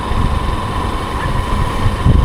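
Motorbike engine hums steadily while riding along a village road in low gear, up close and continuous, with some low rumble and wind buffeting toward the end.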